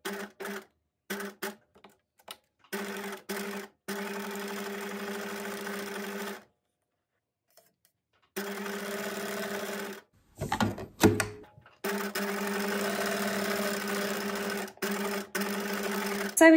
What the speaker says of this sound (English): Sewing down sort of and going kind of horizontally across, and I'm starting in the middle and moving out.